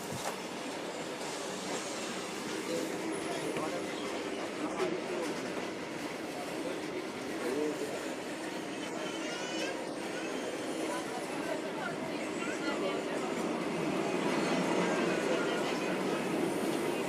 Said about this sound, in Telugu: బాగుంటుంది కదా అలా ట్రైన్ వెళ్తుంటే చక్కగా